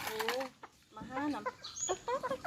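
Bantam chickens cluck and chatter up close in a series of short, irregular calls while pecking at termites, with bursts of varied clucks spread across the moment.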